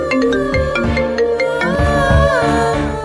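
A phone ringtone plays loudly and steadily, a repeating electronic melody with a pulsing beat, with no talk over it.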